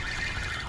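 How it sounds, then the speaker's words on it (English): A fishing rod bite alarm on a freezing winter day screams in a steady, loud electronic tone, continuous and close through the whole short burst, with no talking over it. "Then this rod just started screaming. The alarm started screaming."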